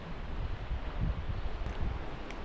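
Steady wind rushes across open ground at a 5397 m Himalayan mountain pass on a cold early morning, a broad, moderate roar with gentle gusts and no voices.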